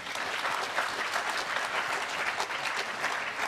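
An audience at a Polish national science congress panel claps in sustained, dense applause that holds at an even, moderate level throughout.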